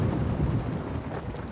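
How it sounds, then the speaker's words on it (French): Cartoon thunderstorm with a loud, deep rumble of thunder over steady heavy rain, filling the whole moment with no voices. "c'est l'orage qui gronde"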